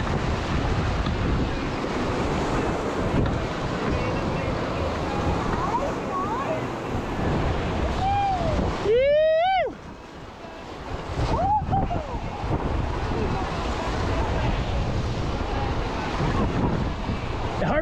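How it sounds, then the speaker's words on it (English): Whitewater rapids on the Colorado River's Moab Daily stretch at 20,000 CFS, heard from a raft as continuous loud rushing water and wind buffeting the microphone, with brief whistling tones and a short dip midway. "We were really going over these waves pretty high."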